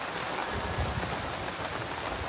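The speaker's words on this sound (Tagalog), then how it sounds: "Ayun guys, lumalakas yung ulan." Heavy rain pours steadily and densely on the grassland of Tawi-Tawi in the Philippines, near and loud, a continuous hiss without any talking.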